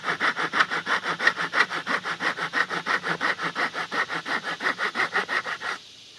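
A hand saw cuts through wood in quick, even back-and-forth strokes, close and steady, then stops abruptly.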